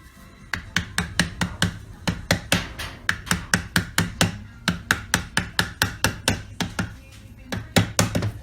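Rapid series of sharp metallic taps on an LT230 transfer case part being dismantled, dozens of evenly spaced knocks in quick bursts with brief pauses, close and clear.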